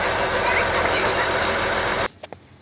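Steady drone of a boat engine on calm water as the boat enters a small creek in the Sundarbans, loud and continuous for two seconds before cutting to near quiet with a few faint knocks.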